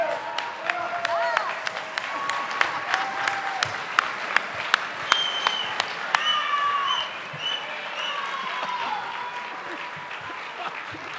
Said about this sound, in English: Stand up and give yourself a round of applause.